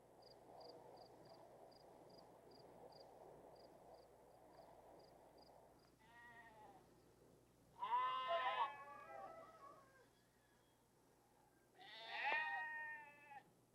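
Village goats bleat in two harmonic bursts against a low steady hum and faint intermittent chirps, the calls fairly close and separated by a few seconds of quiet.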